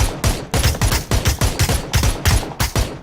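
Rapid bursts of automatic gunfire from a shooter video game, several volleys of close, loud shots in quick rhythm across the stretch, with no talk over them.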